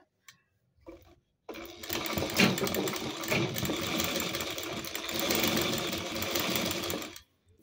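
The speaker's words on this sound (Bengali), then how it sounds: "এইভাবে পুরো সোজা সেলাই টেনে দেব সেলাইয়ের ওপর দিয়ে।" A sewing machine stitches a straight line along the folded half-inch hem of a nightie sleeve, running steadily and fairly close for about six seconds after a couple of brief clicks.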